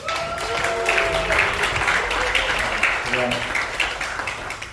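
A seminar audience in Korea claps for a company representative, a dense patter of applause heard under a voice talking through it.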